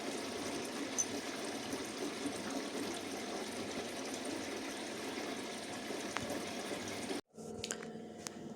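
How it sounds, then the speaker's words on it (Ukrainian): Water filling a household dishwasher, a steady low trickling and gurgling flow that runs continuously, cuts out abruptly near the end, then resumes with faint drips. "Знайшли ми, що не так з посудомийкою, почали набирати воду"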